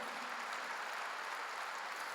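A church congregation claps together in a steady, dense wash of hand claps, moderately loud and continuous for a couple of seconds, with no voice over it.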